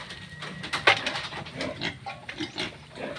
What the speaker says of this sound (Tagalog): ito yung ating mga alagang fatteners